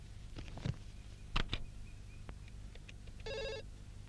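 A landline telephone rings with a short electronic trill, heard once and fairly faint against soft room noise, with a few small clicks and handling sounds before it.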